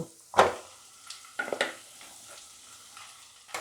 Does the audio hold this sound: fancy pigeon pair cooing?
no